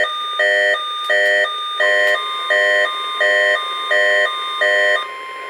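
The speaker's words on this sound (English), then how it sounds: "This is a test of the NOAA radio warning alarm device for WXL34" A NOAA weather radio sounds its warning alarm tone in a repeating two-tone beeping pattern, with seven loud, evenly spaced bursts over a steady tone and no talking.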